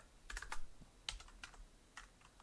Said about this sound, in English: let's type in Bishop